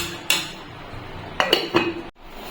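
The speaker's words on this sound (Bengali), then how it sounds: "লেবুর রসটা একটু নেড়ে নেবো, নেড়ে আমি ঢেকে রেখে দিচ্ছি।" A spoon clinks against a pot holding sugar syrup and lemon juice, three or four sharp metallic knocks and scrapes, close and moderately loud with quiet gaps between.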